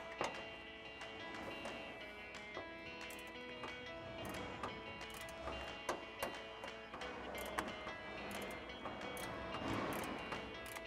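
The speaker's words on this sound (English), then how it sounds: "I'm gonna use my 10mm on a ratchet and just pull that out." A 10mm socket on a hand ratchet backs a bolt out of the wheel well liner of a 2019-2023 Ram 1500, a run of fairly faint, rapid metallic clicks in uneven bursts, with no talking.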